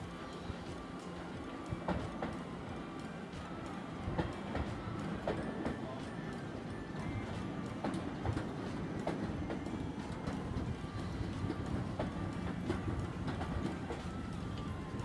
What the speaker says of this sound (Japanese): 電車が来ちゃった。